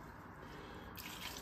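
A pint of water is poured into a pan while making tikka masala curry sauce, giving a steady, quiet, hissing splash of running liquid throughout.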